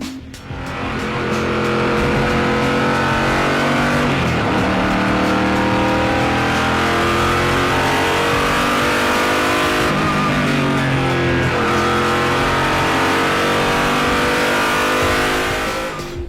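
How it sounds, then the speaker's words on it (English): Koenigsegg CCGT race car engine revving hard, a loud, sustained high-pitched roar with rising and falling pitch as it accelerates and shifts, close and continuous with no talk. "the engine sound is just amazing to listen to"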